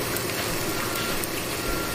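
A propane truck backing up sounds its steady reversing beeps, loud and continuous over engine noise outside a home kitchen.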